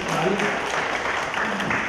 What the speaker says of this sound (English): give Washington State a hand clap